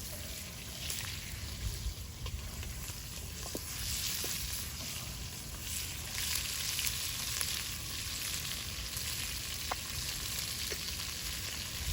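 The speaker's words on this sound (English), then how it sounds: "our Bogrács is pretty hot, and the fats are coming out very quickly" Fat rendering out and frying in a hot Hungarian bogrács cauldron, a continuous bright sizzle with soft crackles and occasional spits, steady and close throughout.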